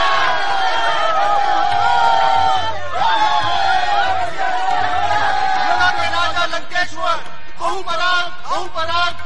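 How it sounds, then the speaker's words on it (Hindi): A dense crowd of people pushing and jostling for tickets, a loud continuous babble of many voices with occasional shouts and whoops, music and talk running over it throughout. "आज तो इतनी भीड़ है कि मालामाल हो जाएंगे"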